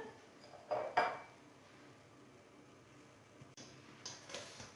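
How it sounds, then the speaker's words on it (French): Butter is cut into small pieces in a bowl of sugar for almond squares, giving a few faint metallic clinks and scrapes of a utensil against the bowl, spaced apart against quiet room tone. "On va venir couper en petits morceaux le beurre dans le sucre."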